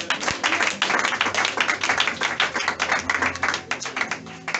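A church congregation at a Sunday worship service claps together in a dense, rhythmic burst that sounds loud and close, and no cheering voices stand out clearly.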